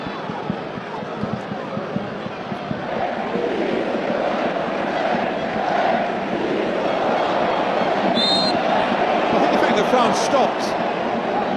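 A football stadium crowd at a France versus Ivory Coast match, a dense, steady roar of many voices swelling slightly, with a commentator's voice over it.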